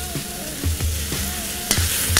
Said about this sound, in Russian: И немного обжариваем с овощами.